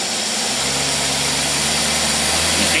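Engine fed by a Rochester single-barrel carburetor pulling under heavy load, giving a loud, steady, continuous drone with a low rumble throughout and no talking.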